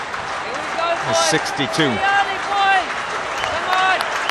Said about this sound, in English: Many England supporters around, and the claps, the hand claps going on